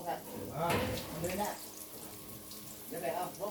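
Bananas in batter frying in hot oil, a soft steady sizzle and bubbling with a few louder crackling swells as pieces go in, fairly quiet, with someone talking over it.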